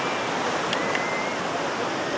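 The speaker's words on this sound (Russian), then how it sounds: "Как шумит море." Sea surf on Karon beach in Phuket, a steady broad rushing wash of waves heard close and continuous without any talk.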